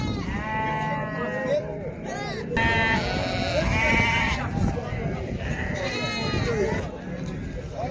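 Sheep and lambs bleat repeatedly, several overlapping calls close by, with people talking throughout over a noisy crowd at the Maştağa livestock market in Azerbaijan.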